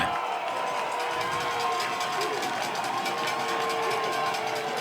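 At a college football game in Danville between Averett and the Ferrum Panthers, a stadium crowd roars steadily after a big hit, a loud continuous wash of cheering with faint scattered shouts throughout.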